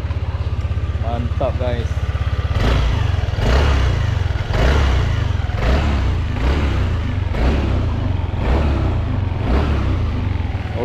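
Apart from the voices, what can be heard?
Yamaha NVX 155 scooter engine running and revving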